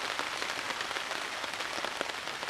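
Steady rain patters on a woodland camp, a dense, even hiss of drops landing on surfaces with no voices, quiet and continuous.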